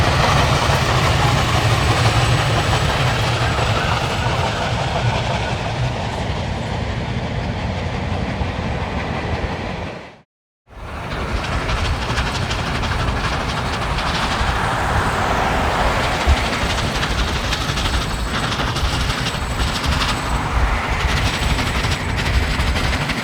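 Union Pacific Big Boy 4014 steam locomotive labours up a heavy grade between Enterprise and Morgan, a steady dense roar of exhaust and rolling train noise, loud and continuous, broken by a brief cut near the middle.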